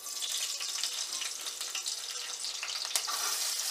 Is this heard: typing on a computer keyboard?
no